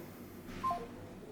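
Brief electronic keypad dialing tones from an Android 9.0 aftermarket car head unit in a Nissan X-Trail, a short tone burst rising over a steady low cabin hum, with no talking.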